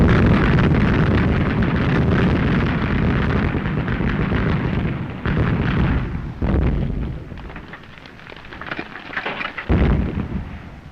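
An artillery bombardment from a First World War film rumbles as a heavy, continuous barrage of deep booms and blasts. It is loud at first, then eases, and a final sharp explosion strikes near the end.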